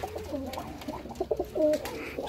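Jacobin pigeons cooing in an open loft, several soft nearby coos in short bursts over quiet background noise.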